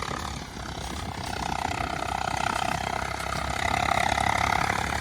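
A new tractor's diesel engine runs steadily on a village farm field, a continuous droning rumble with a throaty mid-range hum that swells slightly louder toward the end, with no talking.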